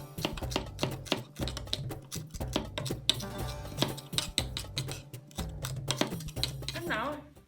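A knife chops small herbs such as thyme on a board in a steady run of crisp, close taps, with brief pauses between bursts and faint kitchen clatter in the background.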